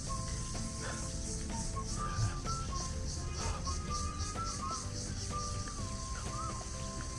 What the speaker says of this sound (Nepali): चराचुरुङ्गीको मजाको आवाज